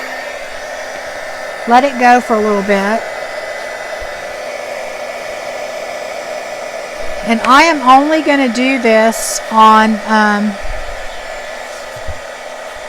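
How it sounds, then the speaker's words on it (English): A heat gun blows hot air with a constant loud whoosh throughout, while a person talks over it in two short stretches. "I just take my heat gun, and I'm sorry for the noise"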